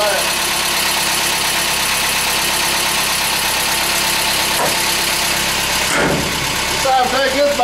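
A Mazda B2200 pickup engine idles rich with a loud, steady, close rumble and a faint rhythmic knock. A brief voice comes in near the end as the pitch shifts.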